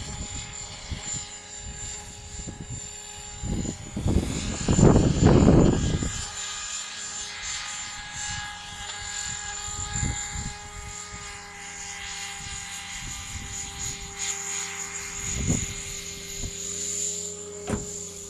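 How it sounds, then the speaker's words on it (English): T-Rex 500 RC helicopter with an Optifuel engine flying outdoors, a steady high buzzing whine that stays fairly quiet and distant, with louder gusty bursts and rustling at moments and faint insect chirps in the background. "To be fair, Steve, that Optifuel is pretty quiet"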